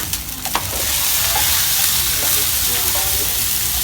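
Onions fry in very hot oil in a pot set on the ground in a kitchen in Tamatave, Madagascar, producing a loud, dense, steady hiss and crackle that fills the clip after a brief clatter at the start.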